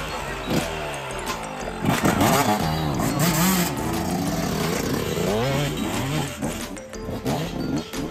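A race motorcycle is started and lifted down from its stand at a motorbike games event, its engine catching and revving hard in repeated rising and falling bursts, loud and close over faint background crowd noise.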